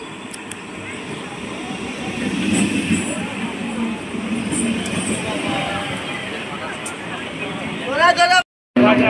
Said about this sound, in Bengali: এই আমাদের লালগোলা রানাঘাট লোকাল 31-770 ঢুকছে ভাবদা রেলওয়ে স্টেশনে।